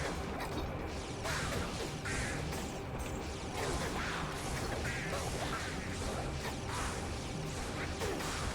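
Bird enemies in Diablo 2 squawk and quack repeatedly amid dense, clattering combat noise, with swooshing and smashing effects layered throughout at a steady, busy level.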